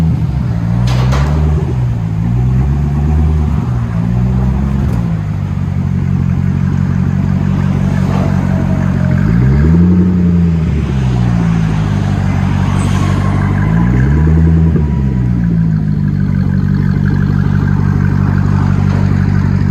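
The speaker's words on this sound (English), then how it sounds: "Oh, it's got a nice idle to it too." Dual exhaust on a 2005 Chevrolet Corvette with a 6.0L V8 and Carven R series mufflers, a loud steady idle rumble throughout with a few brief blips of throttle that rise and fall.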